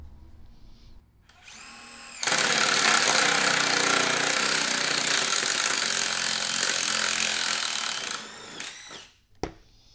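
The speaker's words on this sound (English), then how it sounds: "Let's cut a comparable hole, 1/2 inch, using the nail strike" A Bosch nail strike bit bores a half-inch hole in wood, starting with a brief spin-up, then a loud, steady grinding drill run of about six seconds before winding down, followed by a short clunk.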